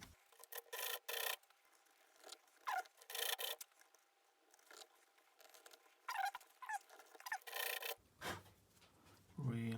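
Rasping file strokes shaping a bone guitar nut in a workshop, coming in short, close, repeated bursts with brief pauses between passes.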